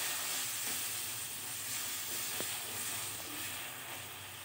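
Spice paste for a hilsa fish dish frying with a little added water, a steady close hiss and sizzle with faint stirring and no voices.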